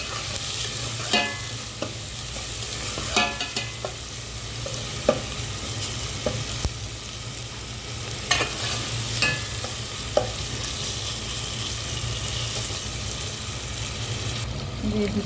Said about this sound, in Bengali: আবারও নাড়াচাড়া করে ভেজে নেব।